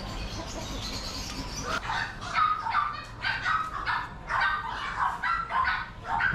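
Dogs bark in repeated short bursts at the Chatuchak pet market in Bangkok, fairly close and loud, with yips over a steady market background.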